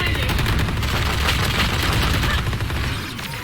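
Rapid Vandal rifle fire from a Valorant esports match comes in a dense, loud barrage of overlapping shots with booming impacts. It continues for about three seconds, then thins out.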